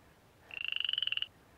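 A single frog gives one short, rapid pulsed trill of about a second, close and clear against a quiet background, during breeding season.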